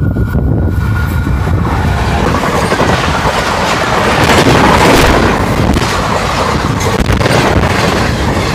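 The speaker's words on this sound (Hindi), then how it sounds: "GU40 लोकोमोटिव के साथ I think sir Syed express approach कर रही है। नहायत ज़बरदस्त स्पीड में थ्रू पास।" Sir Syed Express hauled by a GU40 locomotive passing through an abandoned station at high speed, a loud close roar of wagons with rhythmic clickety-clack over the rail joints, swelling at its peak.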